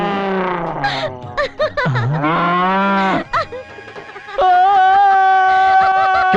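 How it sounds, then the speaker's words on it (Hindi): A buffalo bellows in a comedic romantic film scene, a long wavering moo that dips low, then swells again into a loud, sustained bray near the end, with no talk over it. "वो भैंसा क्यों चिल्लाया?"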